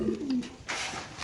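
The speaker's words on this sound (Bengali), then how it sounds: "রেড চেকার একটা মাদি কবুতর" A red checker female pigeon coos at a farm, a few low soft throaty notes close by, followed by a brief rustle of broader noise.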